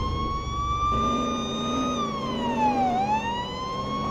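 A loud, steady police car siren in Police Simulator: Patrol Officers wails nearby, its pitch holding and then dipping and rising again, with a low engine rumble underneath.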